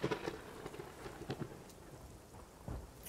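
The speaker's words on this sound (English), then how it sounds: "You think that's just lucky timing with a thunderstorm behind us?" Thunderstorm in the Chronos video game, soft rain hiss with low rumbling thunder and a few sharper cracks, faint and distant, without voices.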